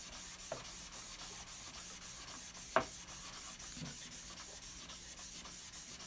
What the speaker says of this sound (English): I don't want to mess up your sharpening